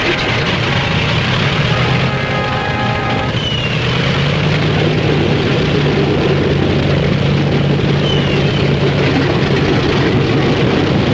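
Engines of World War II military bomber aircraft start up, a heavy low drone with propeller whine building and settling into a steady, loud, continuous roar that fills the whole stretch.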